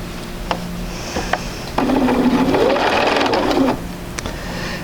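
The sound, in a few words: sewing machine stitching fabric pieces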